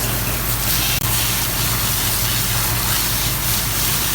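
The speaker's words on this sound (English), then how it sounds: "we can start spraying water into the coil with the coil cleaning system." An OctoFrost coil cleaning system sprays water into a freezer coil, a loud, steady hiss of spray over an engine-like hum, with one brief dropout near the start.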